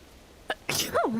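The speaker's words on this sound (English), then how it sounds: "I need to sneeze." A single close sneeze, a quick inhale followed by a sharp burst and a falling voiced tail.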